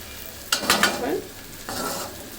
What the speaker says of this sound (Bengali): প্রায় 3-4 মিনিট লাগবে পেঁয়াজটা ভাজতে